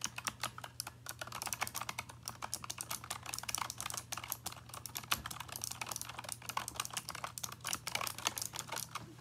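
Razer Huntsman Mini gaming keyboard being typed on, a dense run of quick, crisp key clicks in uneven bursts, close and alone over a faint low hum.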